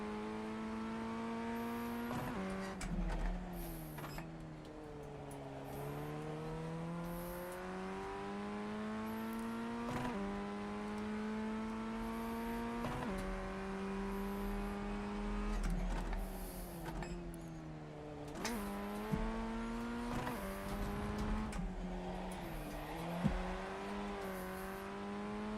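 A Formula Ford 1600 race car laps Winton Raceway, its engine droning steadily close by with repeated rises and falls in pitch as it revs up and shifts through gears, the note held continuously for the whole stretch.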